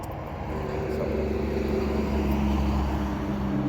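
A station wagon's engine runs steadily with a low, even hum throughout, fairly quiet and constant, though it won't idle properly.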